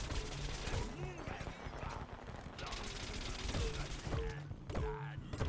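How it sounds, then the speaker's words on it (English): Fireworks burst in a hectic round of the Plants vs Zombies: Garden Warfare video game, a dense run of loud blasts and crackling layered with game music and effects. "Nothing you can do about the fireworks now!"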